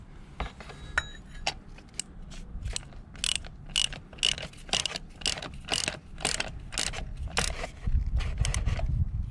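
A hand wrench ratchets tight an oil filter on a Honda CBR650R motorcycle, giving a close, crisp series of uneven clicks and metallic ticks spread across several seconds with brief pauses.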